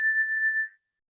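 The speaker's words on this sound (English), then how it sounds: "Let us listen to the sound of a chime this morning that sat on my mother's" A single chime that once sat on a piano is struck once, ringing with a clear, pure bell-like tone that sustains briefly and then fades to silence within a second, heard alone.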